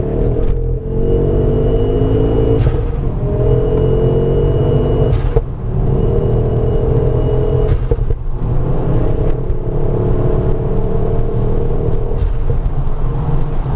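A car pulling away from a standstill and accelerating with traction control on, a loud engine rumble rising in pitch through repeated gear-like sweeps, heard from inside the car without talk.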